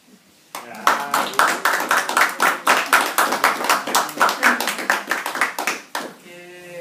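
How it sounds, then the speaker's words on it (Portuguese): An audience claps together for several seconds with dense, steady applause that rises quickly, holds evenly and then fades, with a voice briefly audible near the end. "Eu queria que vocês me ajudassem com uma salva de palmas para a gente."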